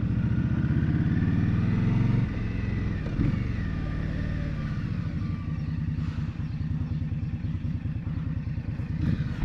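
An Indian Scout Rogue cruiser motorcycle rumbles along as it is ridden, a deep steady engine throb that eases off after a couple of seconds and then continues at a lower, even pulse, close and with no talking.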